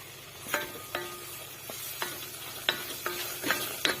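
Tomato paste fries in a pan for a lentil soup while a utensil scrapes and taps at an uneven pace, with a steady soft sizzle underneath.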